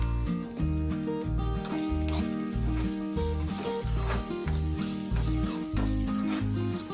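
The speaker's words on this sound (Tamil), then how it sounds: "தேங்காய் போட்டு லைட்டாக வறுத்தா போதும்" Soft sizzling and stirring of grated coconut lightly roasting in a pan, faint beneath steady background music.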